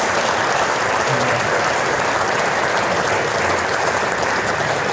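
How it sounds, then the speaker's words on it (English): At a fall monogram jacket ceremony, an audience of athletes and families gives the parents a round of applause, sustained, loud, even clapping filling the room without talk. "So would you please give all the parents a round of applause?"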